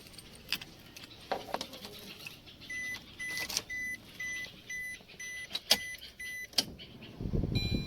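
Car keys jangle inside a 2024 Maruti Suzuki Wagon R, in short metallic bursts over a steady run of repeating chime beeps, before a low rumble rises at the end.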